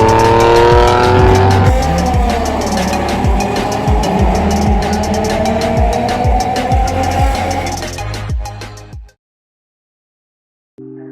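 Loud JDM cars in a convoy run through the Hindhead tunnel, engines roaring and echoing with repeated sharp gear-shift pops as they pass, fading out before a brief cut.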